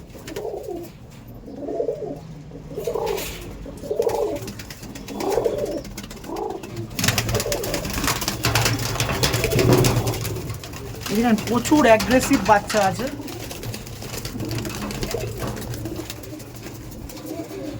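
Pigeons coo in a loft in rhythmic repeated bursts, first alone and then beneath someone talking, with rustling and more cooing and wing noise later.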